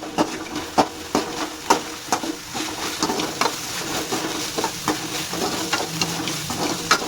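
Onions frying in oil in a pan for an onion gobi dish while being stirred: a steady close sizzle broken by regular scraping strokes of the spoon, with no voices.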